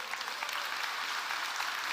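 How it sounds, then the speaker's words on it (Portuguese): A church congregation applauds in a continuous, even wash of clapping that sounds somewhat distant and subdued, with no voices standing out. "Você pode aplaudir o Senhor?"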